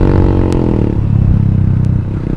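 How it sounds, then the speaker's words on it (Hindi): A Yamaha FZ motorcycle fitted with a loud modified exhaust roars close by, a dense, rumbling engine note that slides down in pitch as the rider eases off the throttle, continuous throughout. "एग्जॉस्ट का साउंड सुन सकते हो"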